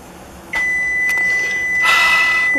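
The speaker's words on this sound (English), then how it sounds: "We're beeping again." An oven timer beeps while a batch of cookies bakes, a steady high tone sounding from about half a second on, close and fairly loud in a quiet kitchen.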